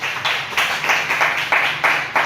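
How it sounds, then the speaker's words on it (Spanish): A church congregation claps together in a steady rhythmic beat, about seven bursts of loud, close applause in quick succession. "Vamos a brindarle un fuerte aplauso a nuestro Dios."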